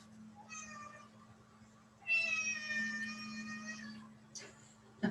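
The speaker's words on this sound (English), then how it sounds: "this is my cat, my special baby" A pet cat indoors gives two drawn-out, fairly close meows, the second longer and louder, over a steady low hum, followed by a faint short sound.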